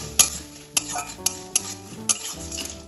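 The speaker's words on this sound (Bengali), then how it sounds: "ফোড়নটা তেলের সাথে একটু নাড়াচাড়া করে নেব" A utensil stirs chilli tempering spices in hot mustard oil in a pan, giving about five sharp metallic clinks and scrapes over a faint sizzle, with steady background music throughout.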